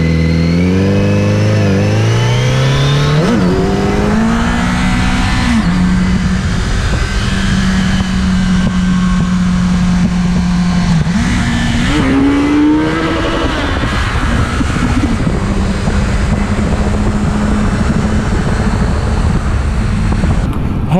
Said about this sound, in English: this bike has a little bit of a bark to it